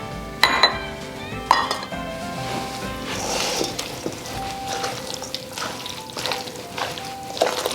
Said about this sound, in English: Begin to mix it very well.